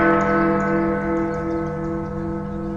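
A clock tower bell rings with a sustained, resonant tone, its hum lingering steadily over a faint background with no talk.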